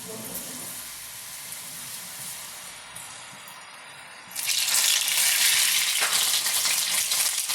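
Cassava pieces drop into hot oil in a Kerala home kitchen. A faint background hush gives way to a sudden loud, sustained sizzle and crackle of frying that continues to the end.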